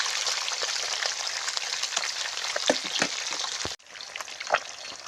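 Fish pieces for an Andhra-style fish pickle fry in a pan with a dense, steady sizzle and crackle. Sharper pops break through, and the sizzle drops briefly near the end before resuming.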